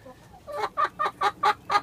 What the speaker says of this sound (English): So here are my other chickies.